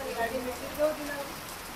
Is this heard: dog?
no